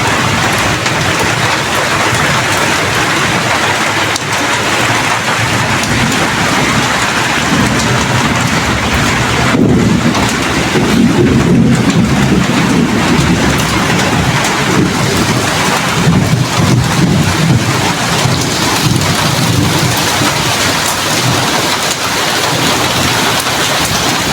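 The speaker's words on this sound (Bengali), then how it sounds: "টিনের চালে বৃষ্টি পড়ার শব্দ কে কে মিস করতেছেন" Heavy rain drums on a tin roof in a rural village, a loud, dense, continuous hiss and patter lasting throughout, with low rumbling swells partway through and no voices.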